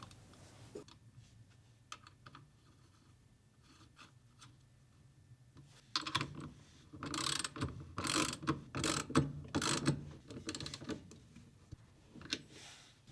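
A nut is tightened onto the rotor shaft of a Samsung washer motor, giving close bursts of metallic clicking and ratcheting. A quiet stretch comes first, and the clicking grows louder in the second half.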